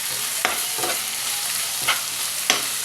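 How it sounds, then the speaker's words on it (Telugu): Tomato pieces with salt and turmeric sizzle in a pan, a close, steady frying hiss broken by several brief scraping stirs of a spoon. "ఇప్పుడు దీనిలో సన్నగా కట్ చేసిన టమాటా ముక్కలు, కూరకు సరిపోయేంత ఉప్పు, పసుపు వేసి మగ్గించుకోవాలి"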